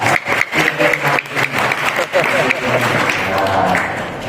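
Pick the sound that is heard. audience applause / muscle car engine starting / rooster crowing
audience applause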